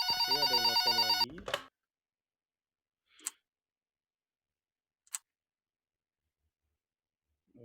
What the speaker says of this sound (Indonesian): ada yang telepon lagi.